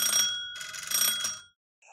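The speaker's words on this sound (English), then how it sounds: "There is a bell though. Cool. I'm gonna ring the bell, I guess." An electronic doorbell at a gated front yard rings in bright, repeated chime bursts, loud and close, before cutting off with a brief faint tone after a pause.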